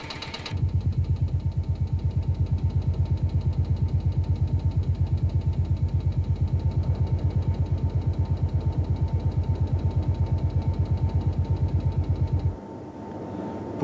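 A 1992 Renault V10 Formula 1 engine runs on a test bench with a steady, rapid, pulsing low-frequency drone at constant speed for about twelve seconds, then drops away abruptly.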